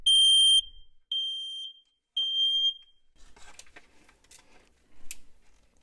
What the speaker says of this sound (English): So this particular detector, when it goes off, sounds like this.